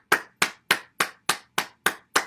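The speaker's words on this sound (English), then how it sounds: "now let's stimulate the heart and lungs first by clapping" Eight sharp hand claps in a steady, even rhythm, close and loud during a morning bouncing and movement exercise session, each clap ringing briefly before the next.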